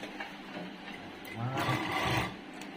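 A sewing machine stitching in a home setting, a short whirring run that swells midway and fades, fairly quiet and close.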